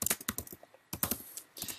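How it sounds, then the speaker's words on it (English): Rapid clicks of a computer keyboard while text is entered into a Dreamweaver web page, in two quick bursts of close, crisp keystrokes with a short pause between them. "if I add another return and I start typing"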